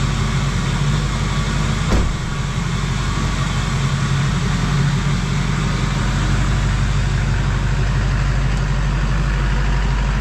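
Steady, loud low rumble of a Duramax diesel truck engine idling, continuous throughout with no talk and a brief bump near the start.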